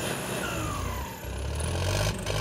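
Tractor engine revving hard at a King Kong tractor pulling contest, a loud, continuous low roar that dips briefly and then surges again, with crowd noise around it.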